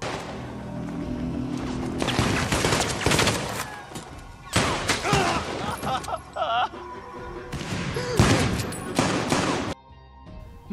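Gunfire in a film shootout involving former special forces fighters, with repeated bursts of shots and crashes coming in loud clusters across the scene, separated by brief lulls.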